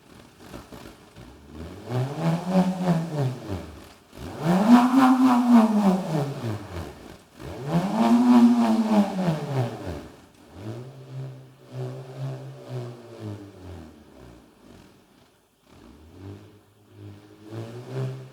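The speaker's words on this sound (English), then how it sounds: "I'm going to play the pūrerehua for you" A pūrerehua, the Māori bullroarer also called a wolf caller, whirs through several loud rising-and-falling swoops, each swelling and fading, then settles into softer, lower droning pulses near the end.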